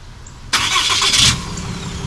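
A diesel RAM 3500 Limited MegaCab dually pickup cranks and fires up by remote start with a short, loud burst, then settles into a steady, muted idle.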